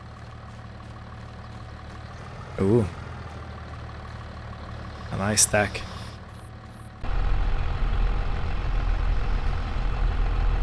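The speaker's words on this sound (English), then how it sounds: "I've been warming up the tractor for a bit." A John Deere tractor engine idles in a farming game, a steady low rumble that cuts in partway through and holds loud to the end, after brief spoken remarks.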